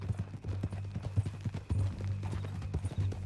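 Hooves of a horse clopping in Red Dead Redemption 2, an uneven walking beat heard close and clear over low outdoor ambience, without any speech.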